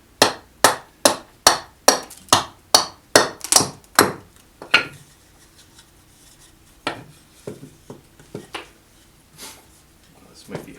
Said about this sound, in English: I'm kind of doing the same chop over and over again, and then moving the workpiece